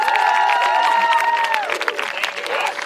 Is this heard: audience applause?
yes